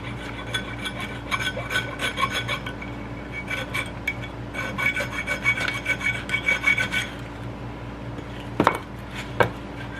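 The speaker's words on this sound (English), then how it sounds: "Okay, I got a hacksaw blade." A hacksaw blade cuts through a wet bolt on a tandem trailer axle, giving steady rhythmic rasping strokes up close with a couple of sharp metallic knocks near the end and no talk.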